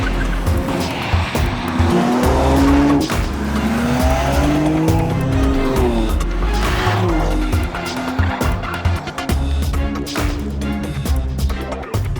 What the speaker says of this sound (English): that makes sure that this engine sounds the best that it possibly can